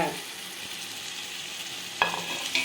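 Mint and coriander sizzle steadily as they are sautéed in a pan for prawn biryani, a dense, even frying hiss with a louder crackle burst near the end.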